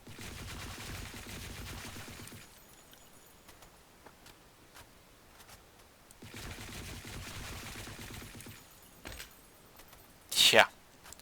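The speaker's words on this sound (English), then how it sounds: "Now we go crouch tap fire." A gun in the Blackshot video game fires from a crouch in short bursts, two stretches of rapid shots separated by quieter gaps, ending in a sharp, loud burst near the end.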